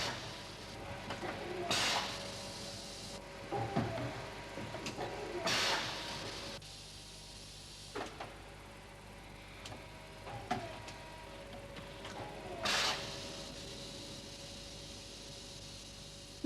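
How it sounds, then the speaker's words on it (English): Blow moulding machine in a Grangemouth development laboratory melting polyethylene and blowing it into bottle moulds: a steady mechanical hum broken by irregular sharp hissing bursts and light clicks, with no talk. "This machine in the development laboratory back at Grangemouth melts the plastic, then blows it into bottle-shaped moulds."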